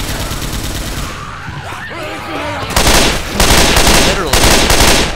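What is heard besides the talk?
gunfire from a big gun in Left 4 Dead 2 video game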